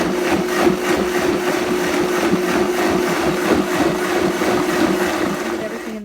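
A blender runs on its juice setting, whirring steadily and loudly with a constant motor drone throughout while blending a thick warm energy-drink mixture with ghee.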